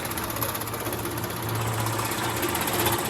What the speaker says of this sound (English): I'm not sure if this is a Denmark machine, and it has the spring very similar to a power hammer but different.